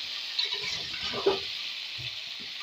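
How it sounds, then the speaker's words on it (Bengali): Potatoes dropped straight into a hot pan sizzle and fry with a steady, soft hiss, with a couple of small clatters as they land, and no talking over it. "আলুগুলো আমি সরাসরি ওখানে ফেলে দিলাম"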